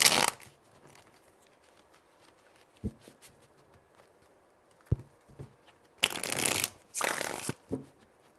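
A deck of cards is riffled and shuffled close by, with a sharp burst at the start and several quick bursts near the end amid quieter handling.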